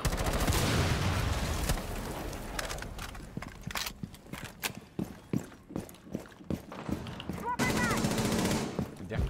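Gunfire in a stealth action video game, bursts of sharp rapid shots and isolated cracks over a dense rumbling backdrop, loud and close, with a flurry of clattering impacts near the end.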